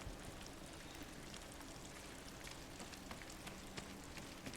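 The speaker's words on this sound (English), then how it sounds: "Just even listening to the rain, I always like doing that." Steady rain falls in the video game Ghost of Tsushima, a dense, even hiss of drops spattering on surfaces, faint and continuous with no talk.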